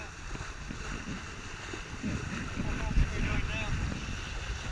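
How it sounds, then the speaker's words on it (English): Strong wind while sailing a Prindle catamaran on open water: steady, close buffeting wind noise with rushing water and waves underneath, swelling slightly near the end. "It's a lot of wind out here."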